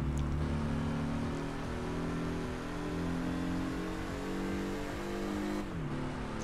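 Saturn roadster engine in Test Drive Unlimited on PS2, heard from the in-car view as a continuous low droning hum with steady harmonics and slight pitch shifts, fairly loud and alone.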